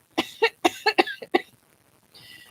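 A rapid burst of harsh, hacking coughs, about six in quick succession, close and loud, followed by a faint wheezy breath.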